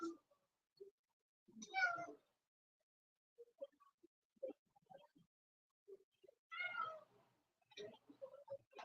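A house cat meows repeatedly in drawn-out, wavering calls, fairly close and clear against a quiet room, with short pauses and a few soft bumps between the cries.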